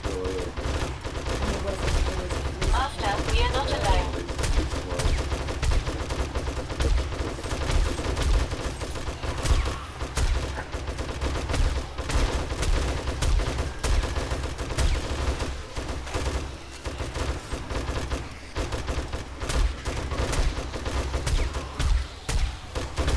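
An SMG turret in the 7 Days to Die survival game firing during horde night, with dense, continuous rapid gunfire rattling throughout and faint voices underneath.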